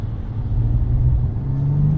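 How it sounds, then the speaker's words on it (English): A 2018 BMW M240i in third gear gives a deep, loud engine rumble with a tone rising steadily as it pulls hard, heard from inside the cabin with no voices. "I'm going to drop it down to third right here and do a little pull"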